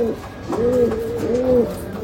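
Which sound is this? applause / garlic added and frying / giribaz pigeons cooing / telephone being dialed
giribaz pigeons cooing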